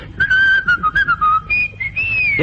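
A person whistles a cheerful, bouncy melody up close, short notes flowing into longer held ones, with no talking.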